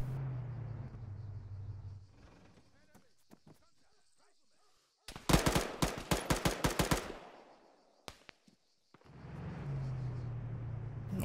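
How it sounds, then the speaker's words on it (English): Automatic gunfire in ArmA 3, heard from an outpost: a rapid burst of about ten loud, sharp shots followed by a lone report, set between stretches of low engine-like rumble. "Already taking fire from the outpost."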